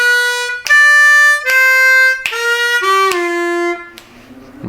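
Harmonica notes play a short blues lick alone, a run of sustained tones stepping downward with brief breaks between them, clear and close, fading out at the end.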